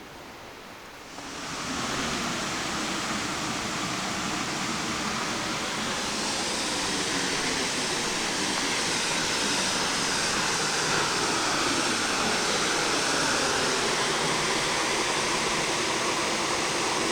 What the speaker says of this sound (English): That's actually a much more impressive waterfall than I'd imagined.